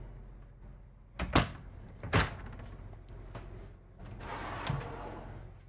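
Slide-out pantry drawers in a Newmar Ventana motorhome roll and thunk shut, two quick close knocks followed by a softer rumble and a light bump, faint and close by in a quiet room.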